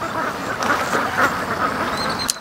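Several ducks quack in a steady, overlapping flurry while feeding on beetroot during a busy morning, a dense close chorus with a sharper call near the end.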